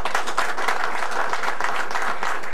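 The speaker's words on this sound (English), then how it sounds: "Clapping." An audience at band camp applauds in a dense, steady wash of clapping that holds at full strength throughout the short stretch.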